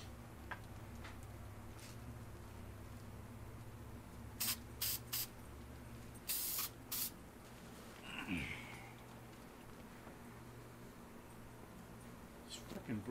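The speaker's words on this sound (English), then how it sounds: "use this super cheap from ALBRIGHT'S SUPPLIES foam and fabric spray adhesive" A few short hissing bursts of foam and fabric spray adhesive in quick succession, faint against a steady low background hum.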